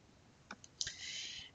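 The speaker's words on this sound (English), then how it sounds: "you're going to click Submit" A single quiet computer mouse click lands on a Submit button, followed by a brief soft electronic hiss, close and isolated with no voices.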